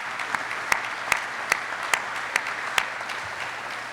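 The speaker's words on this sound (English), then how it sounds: "A round of applause for Brian Jones, Kay, for great leadership." Sparse applause at an Army change of command ceremony, with a handful of loud distinct claps standing out in a slow, uneven rhythm over a quiet bed of lighter clapping.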